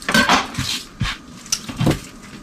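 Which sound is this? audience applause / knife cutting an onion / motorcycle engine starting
knife cutting an onion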